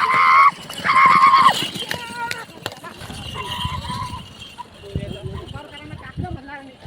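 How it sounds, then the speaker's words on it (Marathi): A pair of bullocks galloping in a bullock cart race, with fast hoofbeats under loud crowd noise and excited commentary throughout. "किती जोरात आणि वेगाने बघा बैल हरण्याच्या चपळापेक्षा जास्त धावतात बघा"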